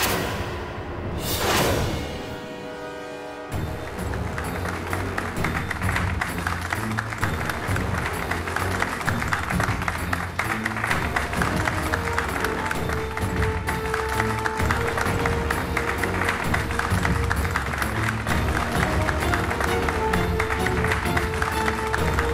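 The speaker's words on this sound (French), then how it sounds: "Applaudissez le Dr Molly Malhotra." After a short swooshing sweep, a large audience breaks into sustained, even applause for Dr. Molly Malhotra, a broad, steady roar of clapping that continues at a constant level.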